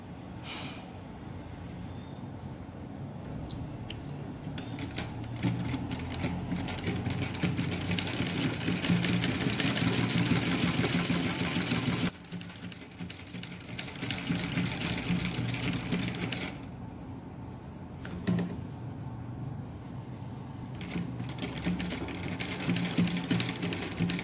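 Sewing machine stitching an eco-friendly handbag at home, a steady fast mechanical whir with brief pauses and restarts, close and clear with no talk.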